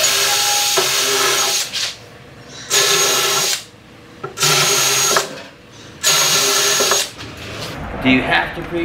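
A power drill whirs in three or four loud bursts as screws are driven into wood for a cornhole board, with short pauses between runs.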